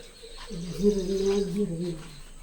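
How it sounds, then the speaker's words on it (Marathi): A single low, drawn-out cooing call like a dove's, fairly close and clear against quiet surroundings. "पक्ष्यांचा बिलाट चाललाय भरपूर"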